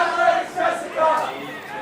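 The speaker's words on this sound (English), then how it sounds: "So we got chants going on here in the crowd." Crowd at a women's quarter-final ultimate frisbee match at Newton Athletic Park chants in loud, rhythmic group shouts, two or three swelling phrases carried by many voices close to the field.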